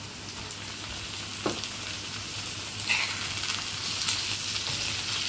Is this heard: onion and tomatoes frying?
yes